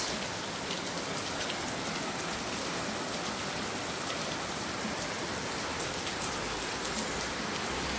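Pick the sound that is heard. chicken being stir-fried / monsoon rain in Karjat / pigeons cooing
monsoon rain in Karjat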